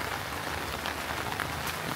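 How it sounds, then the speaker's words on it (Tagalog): Heavy rain pours down steadily, a dense, loud, unbroken hiss of drops hitting surfaces with no voices over it. "So ayun guys, grabing ulan."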